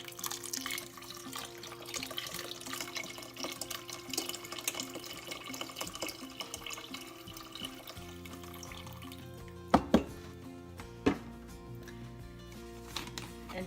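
A whole container of broth pours into a soup pot on the stove, a steady liquid stream running for several seconds, followed by a few sharp clunks as the container knocks the pot.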